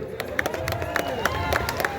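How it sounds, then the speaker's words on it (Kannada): An audience at a village cultural folk-song event claps and cheers, a dense steady burst of applause with crowd noise, fairly loud and close. "ಒಂದ್ಸಲ ಜೋರಾಗಿ ಚಪ್ಪಾಳೆ ಬಿಡ್ರಿ"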